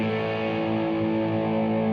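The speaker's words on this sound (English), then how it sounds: "Add a little bit of distortion with that." A loud, sustained distorted electric guitar power chord rings out steadily, thick and buzzing with a gritty sizzle, with no voices.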